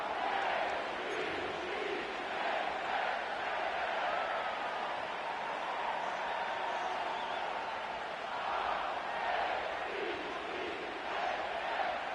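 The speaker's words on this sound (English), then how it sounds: "The crowd is definitely ready." A large stadium crowd at NRG Stadium in Houston, in an EA Sports NFL football video game, roars steadily in a broad wash of cheering that swells slightly in places and keeps going without a break.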